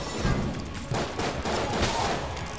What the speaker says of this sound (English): Shotgun pellets everywhere!